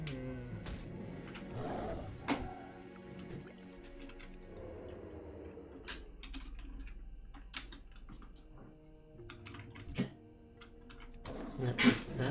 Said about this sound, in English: And that's the dog coughing up something behind.